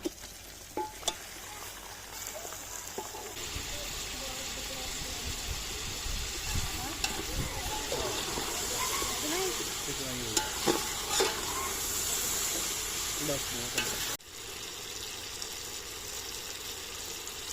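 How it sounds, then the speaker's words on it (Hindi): Chicken frying in a pot for Sindhi biryani, cooked outdoors village-style: a continuous loud sizzle with repeated stirring and scraping, occasional clinks, and a brief break near the end. "अब हम इसमें चिकन ऐड करेंगे और चिकन को भी साथ ही फ्राई कर लेंगे।"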